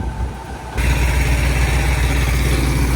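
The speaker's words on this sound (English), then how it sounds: "And then that's his service truck running." A service truck engine idles close by with a steady, loud, low rumble. The sound swells after a moment and then holds constant.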